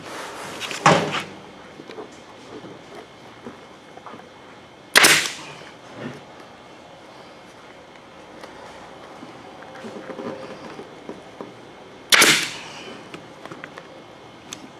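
Three sharp pneumatic stapler shots driving staples into an ATV seat cover, spaced several seconds apart, each a loud isolated crack over a quiet workshop background.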